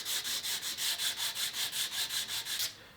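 Sandpaper scrubbing a hard polyurethane finish in a steady back-and-forth rhythm, about a dozen even strokes close to the mic, then stopping abruptly; no talk.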